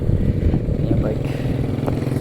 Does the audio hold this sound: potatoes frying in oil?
no